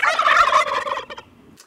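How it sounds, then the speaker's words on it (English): A turkey gobbles once, a loud close rattling call that trails off quickly. "Turkeys!"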